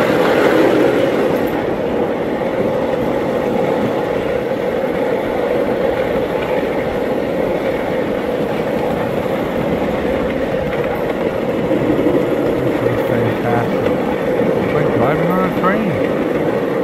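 Plum Cove train running at Waushakum Railroad, a steady, close, loud rumble with rolling clatter that continues without a break throughout.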